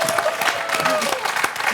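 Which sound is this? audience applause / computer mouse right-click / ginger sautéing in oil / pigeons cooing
audience applause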